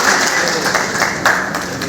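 Sustained applause from an audience at a public electricity festival event in Lucknow, a dense steady wash of clapping with a few louder bursts, no talking over it.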